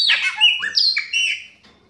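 A Brazilian blackbird (pássaro preto), caged and eating beetles, gives a loud, close run of whistled, sliding chirps, about five notes over a second and a half before falling silent.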